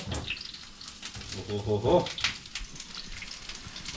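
A cauliflower steak seasoned with salt and spices fries quietly in a pan, a soft crackling sizzle beneath a nearby voice speaking throughout.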